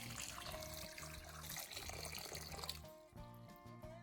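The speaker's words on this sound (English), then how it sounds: "Pour in enough water to fully cover the pieces." Water poured into a small bowl over ginger pieces with baking soda, a continuous splashing, trickling flow that stops abruptly near the end, leaving a quieter room tone.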